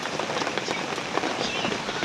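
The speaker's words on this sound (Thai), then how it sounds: "ฝนตกตลอด" Heavy storm rain pours down in a dense, steady hiss, drumming on surfaces close by, with no break and no clear speech.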